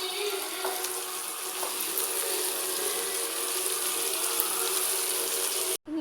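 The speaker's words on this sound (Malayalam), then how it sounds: "ഒരു ഫ്രൈ പാൻ അടുപ്പത്ത് വെച്ച് ആവശ്യത്തിന് പൊരിക്കാൻ വേണ്ടിയിട്ട് എണ്ണ ഒഴിക്കാം." Cooking oil pours into a frying pan set on a stove in a home kitchen, a steady trickling hiss that runs without pause for several seconds before stopping abruptly.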